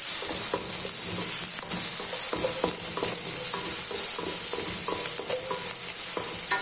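Fish sautéed and stirred in a pan for sangara fish curry, a constant close sizzle with repeated scraping strokes of a spoon across the pan and no voices.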